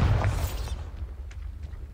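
Bombarda blasting spell explosion in the video game Hogwarts Legacy: one loud boom in the first half-second, then a fading rumble with faint clicks and debris-like ticks trailing off.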